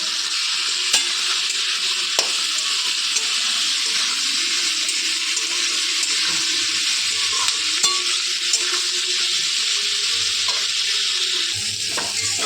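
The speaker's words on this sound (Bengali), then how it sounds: "1/2 চামচ নুন দিয়ে এটাকে ভালো করে ভেজে নেব।" Yardlong beans frying with salt in a pan: a loud, steady sizzle with occasional sharp clicks of stirring, close up, and no one speaking.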